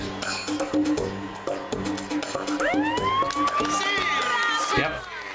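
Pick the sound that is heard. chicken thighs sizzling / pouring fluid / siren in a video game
siren in a video game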